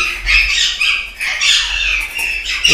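Caged birds at a bird nursery in Namangan squawk loudly and harshly in overlapping calls close by, with no one talking.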